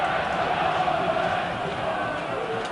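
Football crowd at Burnley versus Wigan Athletic, a steady, broad roar of cheering supporters filling the stadium, continuous and fairly loud without letting up.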